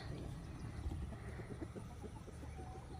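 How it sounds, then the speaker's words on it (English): Chickens cluck softly in the distance against a faint outdoor background, with low scattered calls. "Chickens are all out"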